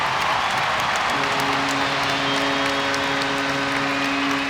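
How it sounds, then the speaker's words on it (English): An ice hockey crowd at a Sheffield Steelers home game roars and applauds after a goal, a broad steady wash of cheering that stays loud throughout, with a sustained horn tone entering partway through. "That's got the Steelers crowd going."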